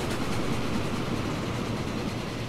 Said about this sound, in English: Empty steel train, that one.